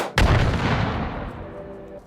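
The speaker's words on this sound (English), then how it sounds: "I just want to do this one time just to see how big this explosion is." A big bomb explosion in the VR shooter H3VR hits with a sudden booming blast, then rumbles and decays over about two seconds.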